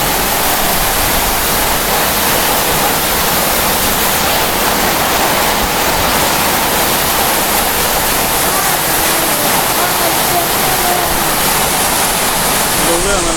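A very strong wind drives heavy rain during a summer hailstorm in Chiang Rai, a loud, dense roar that holds steady and close throughout, with no pause.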